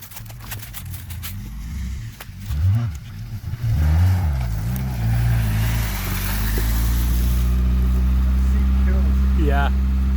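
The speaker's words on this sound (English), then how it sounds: "Still idling pretty high." Suzuki Samurai fitted with a Toyota carburetor idling high, a steady loud engine drone with low harmonic bands and a few rising and falling swells, while people talk over it.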